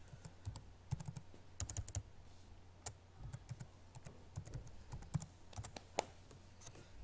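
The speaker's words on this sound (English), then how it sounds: "Then you type in your username and password." Username and password typed on a computer keyboard, sharp key clicks in quick irregular bursts with short pauses, close and fairly quiet over a low steady hum.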